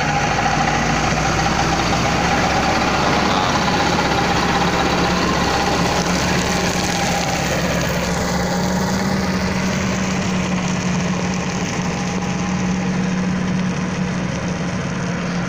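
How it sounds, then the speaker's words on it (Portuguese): A heavy water tanker truck engine runs steadily nearby while the truck sprays water on a dirt road, a continuous droning rumble with vibration that holds loud throughout. "Caminhãozão pipa aí jogando água aí, ó."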